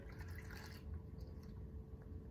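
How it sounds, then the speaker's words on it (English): Wet pancake batter pours into a bowl of dry mix, a soft, faint liquid glug and drip that is brighter at first and then settles into a low, steady pour, heard close with no talking. "it says to stir the wet mix into the dry mix. So let's pour that in."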